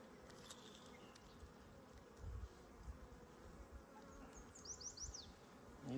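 Honeybees buzzing inside an open hive with brood and hatching young, a close, soft, continuous hum with brief louder swells, no speech.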